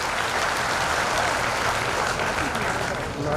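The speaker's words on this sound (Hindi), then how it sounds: "एक बार जोरदार ताली बजाकर आपका अभिनंदन करें" An audience at a public gathering with India's Railway Minister applauds to welcome a guest, a steady wash of clapping that stays even and fairly loud from start to finish.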